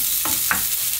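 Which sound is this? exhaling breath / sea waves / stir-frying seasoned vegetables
stir-frying seasoned vegetables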